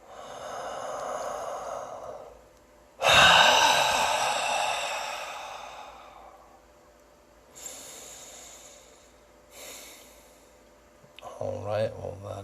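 A deep, drawn-out breath in followed by a long, full exhale all the way out during a calm guided meditation, the breath clear and close with quieter breathy sounds and a short voice near the end.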